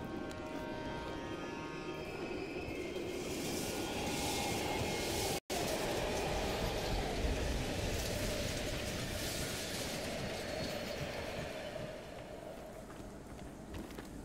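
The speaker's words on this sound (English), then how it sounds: "We can use a train to slip past." A train rolls through an abandoned Berlin station in Call of Duty: Black Ops Cold War, a steady rumbling roar with rail clatter that holds loud and continuous before easing slightly near the end.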